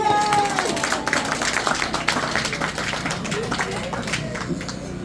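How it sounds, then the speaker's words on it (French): Congregation applauding inside a church during a wedding ceremony, dense steady clapping from many hands with crowd murmur and scattered voices mixed in throughout. "Applaudis l'église, s'il vous plaît."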